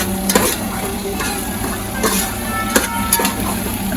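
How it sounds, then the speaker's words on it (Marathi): Prawns sizzle and crackle steadily in hot spiced oil, with a few louder scraping stirs of a spoon against the pan. "परत एकदा असा फ्राय करून घ्यायचं व्यवस्थित"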